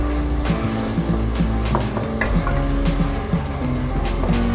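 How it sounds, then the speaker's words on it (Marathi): Tomatoes sauté in a pan for a Maharashtrian masale bhat, with a loud, steady frying sizzle and repeated utensil knocks and scrapes against the pan. "टोमॅटो 1-2 मिनिट परतून घेऊया।"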